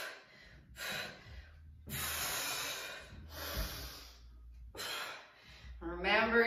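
Heavy breathing during a dumbbell workout comes in loud breathy bursts with gaps between them, followed by a short stretch of speech.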